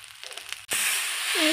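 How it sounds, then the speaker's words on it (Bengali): A ground paste of ginger, cumin and green chili hits a hot pan with spices, and a loud steady sizzling hiss bursts in abruptly after a short quieter moment and keeps going. "সব মশলা দিয়ে কষিয়ে নিচ্ছে ভালো করে"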